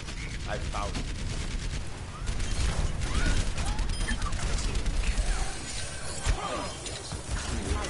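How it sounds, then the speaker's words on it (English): Rocket barrage explosions in a video game, a dense run of booms and crackling blasts that keeps up loud and steady for the whole stretch, with game effects layered on top. "Rocket barrage incoming."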